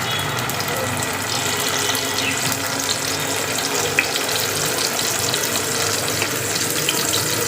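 Ash gourd frying in mustard paste over low heat, a continuous close sizzle and hiss with faint background noise, steady throughout.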